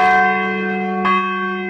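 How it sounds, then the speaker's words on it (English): Church bells ring at Pilgrim United Church of Christ, a loud sustained tolling with rich ringing overtones, a fresh strike arriving about midway as the earlier peal keeps humming. "The calling card for almost any chapel, but for Pilgrim United Church of Christ, those bells mean a whole lot more."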